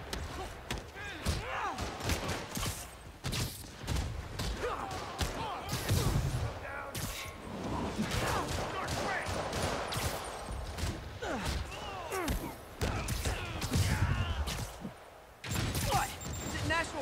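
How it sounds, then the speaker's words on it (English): Rockets firing in Spider-Man Remastered on PS5, a barrage of repeated blasts, thuds and crashes in quick succession, loud and close, with game dialogue heard between the hits. "More rockets?"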